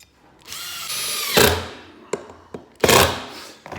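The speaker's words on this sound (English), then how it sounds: "Screw it in." Power drill driving a countersunk screw into a boat transom, a rising whine followed by clunks and two bursts of bit-on-wood grinding, close and loud.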